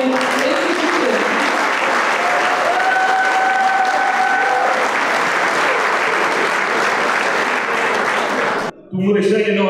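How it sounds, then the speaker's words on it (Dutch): Crowd applause at a shooting guild's honouring event in a hall, dense continuous clapping from many people throughout, briefly cut off near the end before speech begins. "Applaus voor deze heren."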